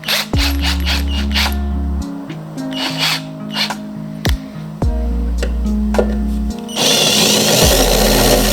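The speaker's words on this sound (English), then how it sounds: "I will try to unscrew this." Power tool working on a fastener on a Datsun 260Z during renovation, loud whirring and ratcheting bursts with pitch changes, stopping and restarting several times, ending in a steady broadband rush.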